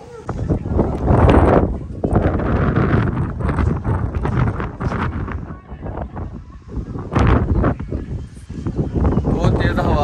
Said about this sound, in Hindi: तेज हवा चलना शुरू हो गया है